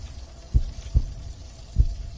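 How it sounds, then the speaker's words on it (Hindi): Heartbeat sound effect in a Hindi-dubbed action film: four dull, low thumps come in lub-dub fashion over a faint steady hum, with no talk. "इतनी आवाजों के बीच मुझे एक आवाज डिस्टर्ब कर रही है, वो है उसके दिल की धड़कने।"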